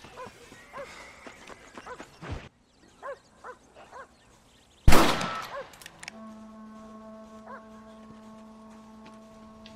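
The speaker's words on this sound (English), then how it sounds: "Jack's out there shooting." Gunfire in Red Dead Redemption as Jack shoots a rifle: one loud, sharp crack after quiet, ringing out over faint ambient sounds, with a dog barking earlier and steady droning tones afterward.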